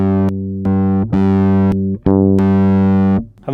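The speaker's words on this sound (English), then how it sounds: "actually the distorted sound is slightly lower there" A Fender Precision bass played through a distortion effect, sounding as loud, thick sustained notes with a few sharp plucked attacks and slides between pitches, rich buzzing overtones, close and without any talking.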